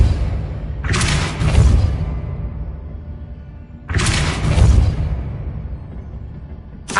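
Two Depulso spell casts in the Hogwarts Legacy video game, each a loud whooshing burst with a deep thudding impact, spaced about three seconds apart and trailing off into quiet.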